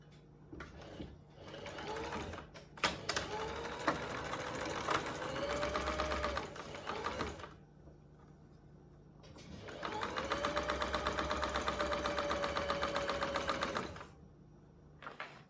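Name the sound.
sewing machine stitching a fabric band into a loop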